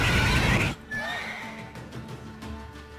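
A horse in The Witcher 3 video game lets out a loud, close whinny that breaks off sharply, followed by quieter snorts and shuffling.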